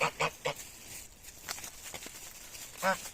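Several short honking calls from geese close by, in a quick burst early on and another near the end, with faint rustling between.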